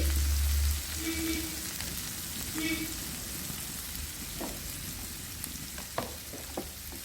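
Onions and small tomatoes frying in a pan for a Tamil Nadu-style palak spinach curry, a steady soft sizzle with a few scraping stirs near the end, with no talking.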